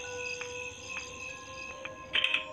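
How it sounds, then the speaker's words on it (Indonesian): Many crickets chirp in the mobile horror game Granny Chapter 2, a faint, steady chorus of high repeated trills with a brighter, louder burst of chirping near the end, and no voices. "Kok suara jangkrik banyak nih?"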